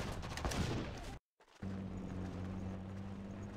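Gunfire from units under attack in the Cold War Conflicts strategy game, a dense burst of shots and booms that cuts out briefly, then resumes with a steady low mechanical hum.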